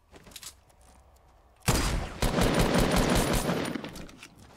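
Gunfire from players fighting in Fortnite, quiet scattered shots at first, then a loud sustained burst of rapid automatic fire and shooting.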